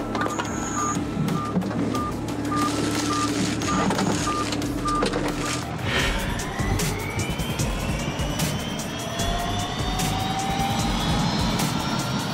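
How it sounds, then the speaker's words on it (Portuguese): Águia rescue helicopter taking off with a fall victim aboard, a loud steady turbine and rotor roar that builds as the engine whine rises in pitch, with beeping equipment early on. "Agora, o helicóptero pode decolar"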